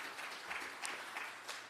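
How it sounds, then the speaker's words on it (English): Faint applause from a conference audience right after a keynote talk on climate change in Africa, a short patter of steady clapping heard at a distance. "So can we give a round of applause to her for that?"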